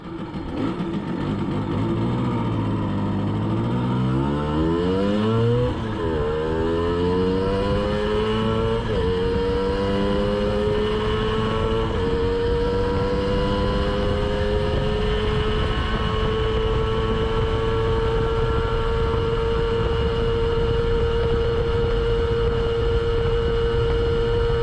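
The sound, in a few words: Simson S51 moped accelerating from first to fourth gear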